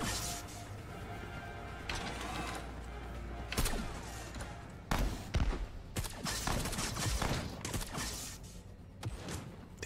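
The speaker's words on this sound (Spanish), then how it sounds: "Me he liado aquí a tiros" Bursts of gunfire and sharp impacts from a turn-based space adventure game, Element Space, arriving in uneven clusters with loud cracks and clatters between quieter stretches, no talking heard.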